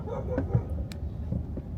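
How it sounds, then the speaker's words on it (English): Dog barks a few times outdoors in a small rural Oklahoma town, short sharp yips close by over steady background noise. "That dog made me jump."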